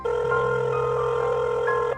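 A telephone rings steadily and loudly inside a Minecraft video game, a continuous electronic bell tone with no talk over it.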